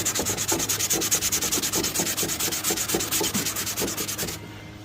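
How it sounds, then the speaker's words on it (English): Steady back-and-forth rasp of a sanding block worked over a cracked fiberglass wing on a Nissan 370Z, close and rhythmic with quick even strokes, stopping abruptly near the end. "You just sand that down. So I'm gonna grab my brick and then I'm just gonna go through it."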